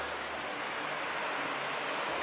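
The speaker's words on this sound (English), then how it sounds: "Nice spring river over there." A spring river runs through woodland on the slopes of Hoverla mountain in Ukraine, giving a soft, steady rushing hiss that carries on without pause.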